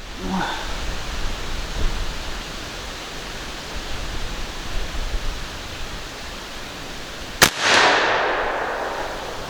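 A Bush Buck 452 air rifle fires a single sharp crack near the end, followed by a short rushing hiss over steady background noise.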